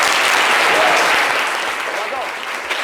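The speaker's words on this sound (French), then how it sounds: "applaudissez pour le gars de Prico" A studio audience on a French-language morning show breaks into steady, dense applause for a contestant, the clapping loud and continuous throughout before easing slightly near the end.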